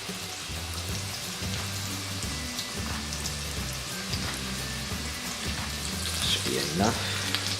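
Chicken pieces frying in a pan for orange chicken give off a steady crackling sizzle with occasional louder pops, while a voice speaks briefly in the background.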